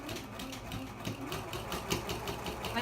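Sewing machine quilting a backpack back panel, running in a fast, steady mechanical stitching rhythm, close and continuous throughout.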